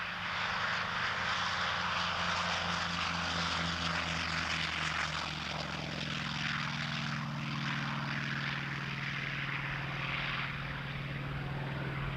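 F4U-5N Corsair propeller fighter flying at an airshow, its radial engine producing a steady, fairly distant drone with a throbbing low hum that shifts in pitch as the aircraft passes, continuous throughout with no speech.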